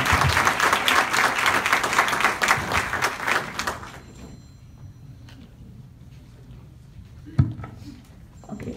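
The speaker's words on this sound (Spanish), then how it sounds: "un fuerte aplauso y el agradecimiento profundo" Audience applause at a Spanish-language public forum on Venezuela, a dense, loud clapping wash filling the first four seconds before fading into quiet room noise with a single sharp knock near the end.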